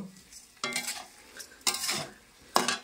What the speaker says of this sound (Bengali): চাল ডাল ভালো করে মিক্স করে নেব।